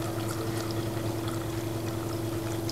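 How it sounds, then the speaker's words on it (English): Warm water pours steadily into a pan of braising Goan chicken, a continuous close trickle running the whole time over a constant low electrical hum, with no talking. "I need to add a little bit of warm water."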